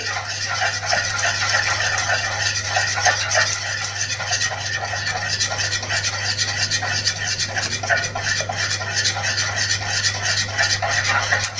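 A spoon steadily stirs a thickening sago and rice flour batter in a pan on the stove, producing continuous scraping and sloshing with a low burner hum underneath.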